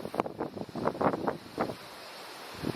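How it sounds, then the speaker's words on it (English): Wind gusts buffet the microphone on an exposed hill on the Malabar Circuit walk on Lord Howe Island, on a windy, overcast day, coming as loud irregular rumbling bursts that ease off briefly before rising again. "The noise was replaced by wind gusts the higher we got."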